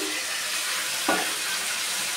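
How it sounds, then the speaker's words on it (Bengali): Yardlong beans and potato pieces fry in a pan, giving a faint, steady sizzling hiss with one brief soft clink near the middle. "আর বরবটি আর আলু ভাজা বসিয়ে দিয়েছি"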